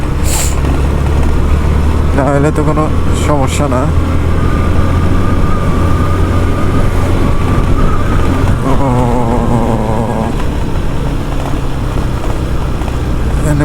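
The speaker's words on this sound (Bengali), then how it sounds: "শুধু শুনেন যে ইঞ্জিন কেমন সাউন্ড দিতেছে" A vehicle engine runs continuously on a hill road near Nilgiri in Bandarban, a steady low drone with shifting pitch under ongoing conversation.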